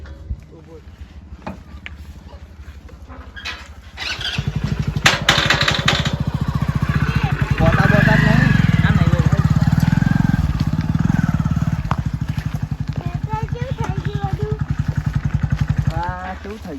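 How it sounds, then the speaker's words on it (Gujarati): A motorcycle is wheeled into a farm field, its engine running with a loud, steady throb that swells in the middle, while people talk over it. "હું બાઈક અંદર લાવી દઉં"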